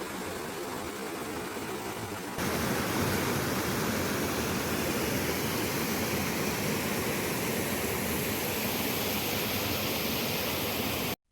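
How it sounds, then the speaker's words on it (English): Steady rushing water, a constant broadband roar of a small creek cascade, growing louder after a couple of seconds and continuing unbroken, with no voices. "There are many small cascades as you follow the creek upstream."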